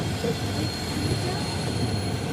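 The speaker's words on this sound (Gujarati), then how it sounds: "રાજકોટ પ્લેટફોર્મ નંબર ચાર ઉપર આપણી ગાડી આવી ગઈ છે" The Okha-Bhavnagar Terminus Express arrives at platform four in Rajkot, a steady rumble of rolling wheels and carriages with faint squeals, heard from on board.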